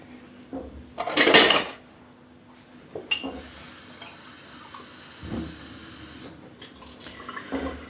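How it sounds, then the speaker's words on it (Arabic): Water poured into a pan of cornstarch mixture for caramel basbousa with orange flavour, a short loud splash followed by scraping and light clinks of stirring in a quiet kitchen. "غنزيدوا عليها واحد شويه ديال الماء"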